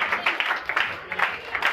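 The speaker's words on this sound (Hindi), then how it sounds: "तालियां रुकनिया नहीं चाहिए" A church congregation applauds a welcome with a steady patter of many hands clapping at moderate volume.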